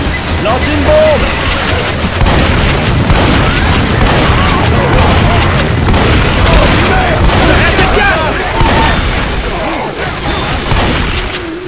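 Explosions and gunfire in the zombie shooter game Left 4 Dead 2, with a dense, continuous roar of booms and crackling shots that stays loud throughout, while a voice speaks over the din.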